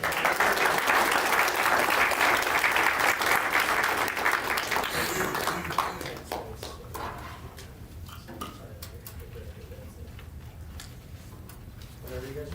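An audience at a school board meeting breaks into loud, sustained clapping for about six seconds, then it thins out to scattered claps and quiet room noise with a few murmurs.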